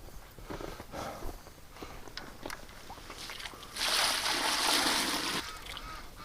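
Water gushing from a thawed outdoor valve in winter, a loud, broad rush that bursts in partway through after quieter trickles and dripping, then cuts off near the end.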